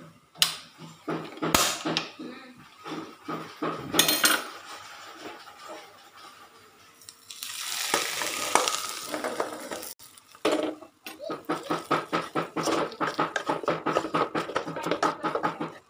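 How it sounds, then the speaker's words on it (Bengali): Hot tempering hits a pot of thin dal, giving a sharp burst of crackling sizzle that settles into steady frying hiss, with intermittent clinks and scrapes of a spoon against the pot. "আমি হলো বাগারটা দিয়ে দিচ্ছি"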